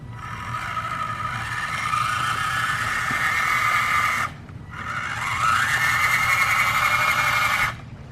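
An RC4WD R8 motor and transmission in a 1/24-scale RC trail truck whines loudly and steadily in two long bursts, with a brief drop between them and a rising pitch as the second run picks up speed.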